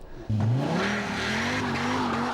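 A Dodge Viper SRT10 engine suddenly roars into full-throttle acceleration, a loud, close, deep and steady drone with rising pitch that holds strong throughout.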